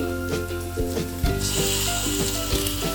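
Chopped tomato pieces drop into a prawn and navalkol (kohlrabi) masala, bringing a steady close sizzle with rubbing, stirring scrapes and a sudden louder hiss as they hit the hot pan.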